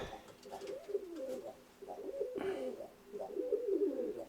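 Several pigeons, including a pair being mated, coo nearby in repeated rolling phrases with short pauses between them, fairly quiet and with no talk over them.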